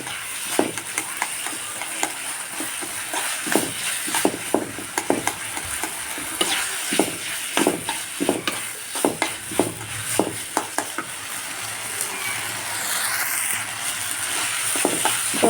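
Chickpeas frying in a pan while a spoon stirs them, repeated scraping strokes over a continuous bright sizzle, close and fairly loud, with the sizzle carrying on alone near the end.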